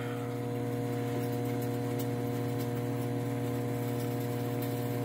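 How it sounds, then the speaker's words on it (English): A Hamilton Beach EM031MZC microwave runs with a steady, loud noisy-motor hum and rattling drone, constant throughout with no talking. "It's a noisy motor."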